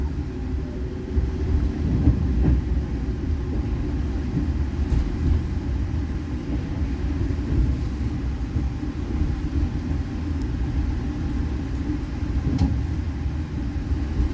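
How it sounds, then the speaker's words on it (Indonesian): The Kaligung passenger train to Semarang Poncol sits at Pekalongan station, its engine and carriages giving a sustained low rumble with faint intermittent clanks over fourteen seconds, no voices. "ini ternyata kereta api Kaligung tujuan stasiun Semarang Poncol yang sudah berada di stasiun Pekalongan ini"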